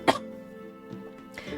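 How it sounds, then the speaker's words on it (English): One sharp cough bursts out near the start, followed by a quiet tonal background with faint throat sounds. "I'm still coughing a little bit."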